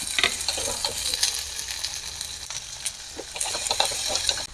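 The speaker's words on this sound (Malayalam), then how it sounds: "ഇനി ഇതിലേക്ക് സവോള, പച്ചമുളക്, ഇച്ചിരി ഉപ്പും കൂടെ ചേർത്ത് വഴറ്റിയെടുക്കാം." Onions, green chilies and salt sauté in a pan for a long beans curry, giving a steady close sizzle and frying crackle with occasional stirring scrapes and clinks throughout, no talking.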